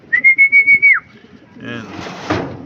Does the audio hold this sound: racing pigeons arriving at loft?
yes